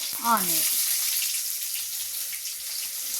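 Peanuts and green chillies frying in a pan give off a steady hiss of sizzling, moderately quiet, with a brief voice at the start.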